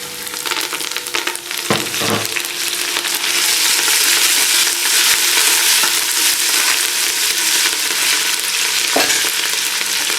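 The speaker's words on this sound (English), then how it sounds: "We're now going to drop in fresh curry leaves." Fresh curry leaves fry in hot ghee in a large pot for a chicken curry. A loud, dense, continuous sizzle and crackle runs throughout, with a few stirring knocks and no talk.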